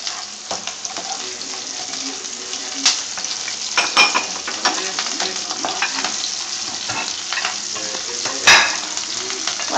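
Ginger, garlic and green chilies sizzling in hot oil in a pan for fish pulao, a steady crackling fry broken by spoon stirs and clinks, close and fairly loud with no talk.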